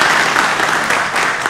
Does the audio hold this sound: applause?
yes